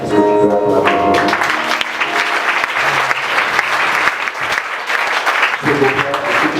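A church congregation claps and cheers for Jesus at a Sunday service, with loud, sustained, dense applause and crowd noise throughout, a voice rising over it and music at the start and end.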